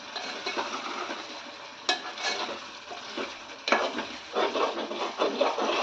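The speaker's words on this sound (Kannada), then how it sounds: "ಇದು ಚಿತ್ರಾನ್ನ ಗೊಜ್ಜು ನೋಡಿ, ಎಣ್ಣೆ ಎಲ್ಲ ಬಿಟ್ಕೋತಾ ಇದೆ." Tamarind gojju for chitranna cooks in oil and is stirred in a pan. Soft, steady sizzling runs under repeated scraping stirs and a few sharper utensil knocks, heard close with no talk.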